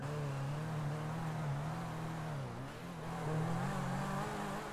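A car engine in GTA holds a steady drone, dips briefly, then revs up again as the car accelerates, heard alone at a moderate level.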